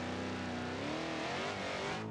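A truck engine with old leaf spring suspension in BeamNG.drive, steady and loud, its harmonic drone rising in pitch as it accelerates, with no voices over it.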